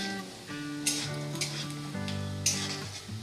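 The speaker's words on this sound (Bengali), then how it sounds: "আলুর সাথে আমি ফোড়নটা ভালো করে ভেজে নেব।" Dry red chilli and whole cumin seeds sizzle in hot oil with potatoes, a steady close frying hiss broken by a few sharp scraping stirs.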